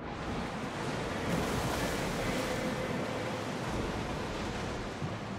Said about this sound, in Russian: Ух, какая волна.